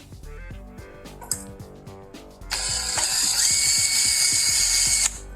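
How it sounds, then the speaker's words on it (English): A power drill bores a hole in scrap metal: first a series of sharp ratcheting clicks and short bursts, then a sustained loud whining drill run that cuts off abruptly. "you want to get a hole started and then check it, because a lot of times your drill bit will run"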